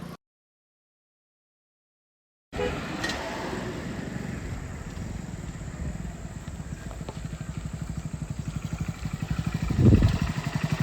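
After a silent opening, a motorcycle is ridden with a rapid, pulsing engine putter that holds steady, then swells louder as it revs near the end.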